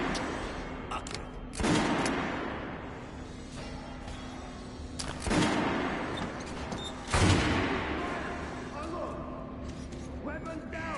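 Guns fire on a shooting range in the video game Metro: several loud, sharp bursts ring out at spaced intervals over a steady background hum, with occasional talk.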